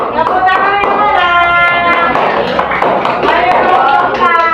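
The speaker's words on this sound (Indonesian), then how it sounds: "beri tepuk tangan untuk kelompok 3" A classroom of students claps for a group during a lesson on the solar system, loud quick scattered hand claps running throughout, with children's voices chattering and calling over the clapping.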